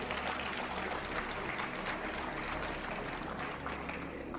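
Steady audience applause during a talk on alien abductions, a dense even wash of clapping that holds at a constant level throughout, fairly loud and close, with a low hum underneath.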